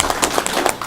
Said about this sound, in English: you should give yourselves an applause